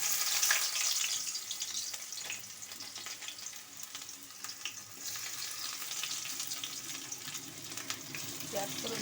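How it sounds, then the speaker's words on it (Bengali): Onion and chilli tempering sizzles and fries steadily in hot oil in a pan, a constant loud crackling hiss lasting throughout with faint stirring and no talk. "পেঁয়াজ ফোড়ন দিয়ে দিলাম, লঙ্কা ফোড়ন দিয়ে দিলাম একটা।"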